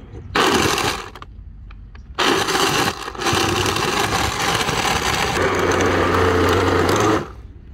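Blender grinds a homemade fruit fertilizer mixture with water in loud, harsh bursts: a short pulse, a pause, then a long steady whirring run that cuts off abruptly.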